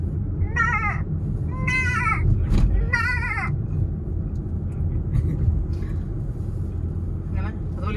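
An old billy goat gives three hoarse, wavering bleats, fairly close, over a steady low rumble of background noise.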